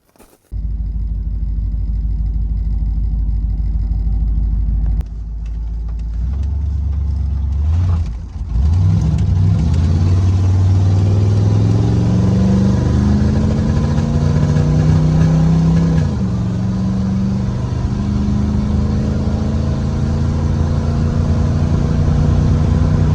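Ford Ranchero engine idling steadily, then revving and pulling away, with rising and shifting engine tones as it drives off; loud, close and continuous, with no talk.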